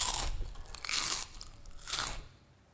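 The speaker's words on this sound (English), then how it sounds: "you would find those crisps to be less fresh and less tasty than if they sounded like this." Fresher crisps crunched twice, louder and brighter, each bite a sharp crackling burst up close with nothing else heard.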